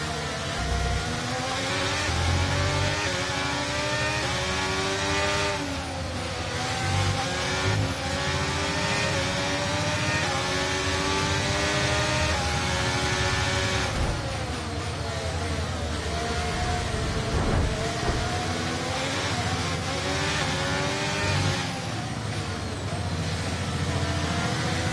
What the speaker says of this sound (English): Let's use overtake and burn off some of this energy.